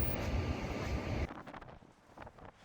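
Wind buffets the microphone on a cruise ship deck in Alaska, a loud rushing roar that drops off after about a second into quieter gusty rumbling.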